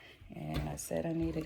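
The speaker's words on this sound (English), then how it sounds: "He's a little dog and he's got a lot of bark." A small dog gives a couple of short, close barks or yelps while a person keeps talking over them.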